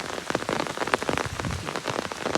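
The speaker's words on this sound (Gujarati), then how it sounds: "વરસાદ તો ફૂલ ચાલુ છે" A heavy downpour drums steadily in a thick, even hiss of drops striking nearby surfaces, with no voices.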